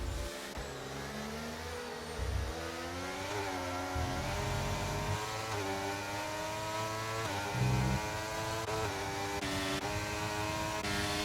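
Racing car engines in a motor racing video game roar continuously as a Williams car pulls off an overtake, the pitch climbing and dropping through gear changes with several engines layered close together.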